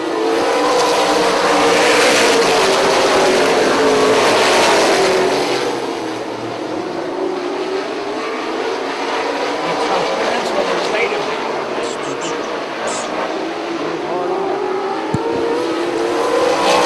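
Late model stock cars race around a short oval track, their engines roaring past in loud, swelling waves that fade and return, with a track announcer's voice talking over the racing noise.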